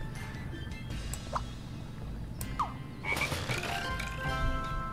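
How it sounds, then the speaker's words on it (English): A cartoon frog croaks several times in the Scribblenauts Unlimited game, short bursts over soft in-game ambience and a gentle music bed, with no talking. "There's a frog on that log."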